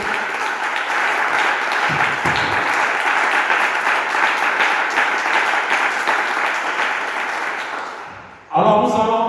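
A church congregation applauding during a service, dense sustained clapping that fills the room for about eight seconds before fading out, then a brief voice at the end.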